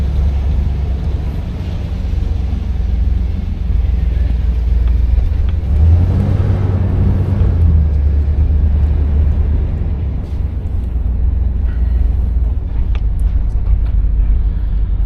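A 1986 Chevrolet Monte Carlo SS drives with its engine and exhaust rumbling low and steady, swelling slightly midway as it passes on a sunny outdoor drive, with no voices.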